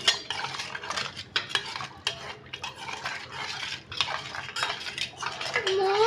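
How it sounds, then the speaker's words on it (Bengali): A spoon stirring a lumpy mixture in a bowl or pot, with continuous scraping and clinking, close and fairly loud, and faint voices in the background. "দলা হয়ে গেল তো ভালোভাবে নাড়তে হবে"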